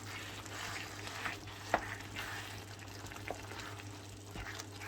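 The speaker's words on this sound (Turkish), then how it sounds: "Şimdi bunları karıştıracağım." Spiced minced meat with pepper paste, salt, black and red pepper is stirred in a frying pan over steady sizzling, with occasional soft scrapes and knocks of the utensil, faint and close with no talk.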